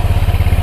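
A 2015 Honda Vario 150 scooter engine runs close by just after a kick start, a steady low putter with a slight rattle, heard alone.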